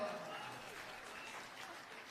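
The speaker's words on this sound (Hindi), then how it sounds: "आपकी तालियां उठती रहे।" Audience applause at a Hindi satirical poetry performance, a faint, steady wash of many hands clapping heard from a distance for about two seconds.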